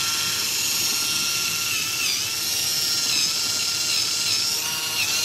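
A Saxhorn electric rechargeable callus remover foot file runs with a coarse roller head, giving a steady high-pitched motor whine that holds unbroken and close throughout.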